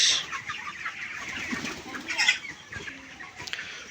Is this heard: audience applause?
no